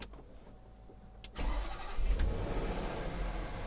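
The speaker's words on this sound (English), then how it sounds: "I will just jump here and start the car" A Range Rover 4.4 V8 with an excessive white smoke problem cranks briefly and fires up. Its engine settles into a steady, rumbling idle, heard up close.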